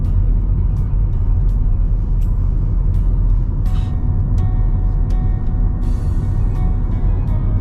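Dense traffic in a jammed street in Vientiane, Laos: a continuous low rumble of idling and creeping cars, with brief sharp hisses and clatters cutting through, close and steady throughout.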